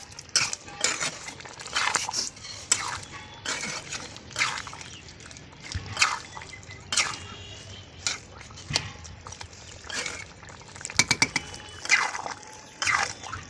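A spoon scrapes and clinks against a metal pot while chicken and Malabar spinach curry is stirred, irregular close knocks and scrapes over a soft bubbling background.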